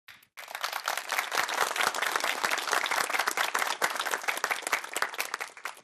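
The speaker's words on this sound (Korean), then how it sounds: "기왕에 치는 박수라면 소리까지 질러서 박수 쳐주면 좋은데." Audience applause at a motivational lecture by a comedian turned CEO, a sharp burst of many hands clapping that starts abruptly and holds steady and bright for several seconds.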